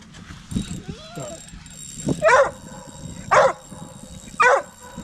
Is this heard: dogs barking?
yes